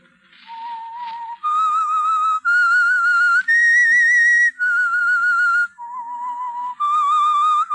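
A clear, loud whistled melody opens The Whistler radio program, a run of sustained, slightly wavering tones rising and falling in pitch, with short pauses between phrases and no other sounds.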